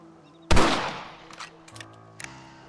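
A single sharp rifle shot from a Red Dead Redemption game scene rings out loud and close, then fades into a decaying tail with quieter game sounds and faint tones afterward.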